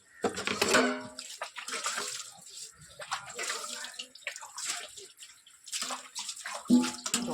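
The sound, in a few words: washing utensils with running water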